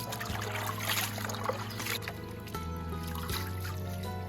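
Wild plantain leaves are rinsed by hand in water, with close, continuous trickling and sloshing over a low steady hum.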